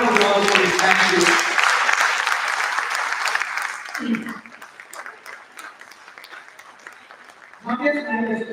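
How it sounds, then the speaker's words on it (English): A crowd at a tech talent league event in Pune claps loudly. The applause starts dense and strong, then tapers into scattered claps, with a voice speaking over the start and a swell of speech and noise near the end. "Give her a round of applause, please."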